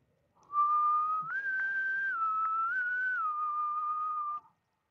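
A single person whistles a steady, sustained melody up close, clear and fairly loud, lasting about four seconds with no talking.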